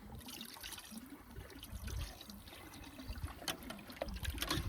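Water trickles and splashes as it is poured into a cooking pot, a continuous low liquid rush that grows slightly louder toward the end, heard close with no voices.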